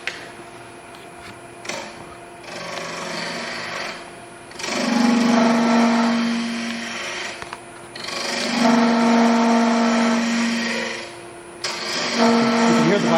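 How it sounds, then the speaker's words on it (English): Wood lathe hollowing a wooden goblet with a gouge: steady spinning hum with several louder bursts of cutting noise, a bright scraping hiss rising and falling, close and fairly loud. "So I'll start a little bit of hollowing"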